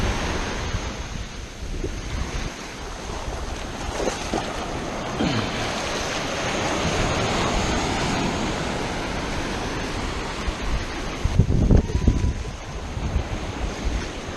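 Ocean surf rolls continuously onto a sandy beach where sand fleas are being raked. The waves wash and hiss steadily, heavily mixed with gusty wind buffeting the microphone, and a stronger surge arrives near the end.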